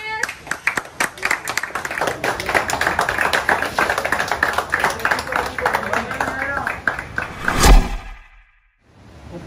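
A group of reality show contestants claps together, a loud close patter of many hands with a voice talking over it, ending in a sharp hit and then near silence.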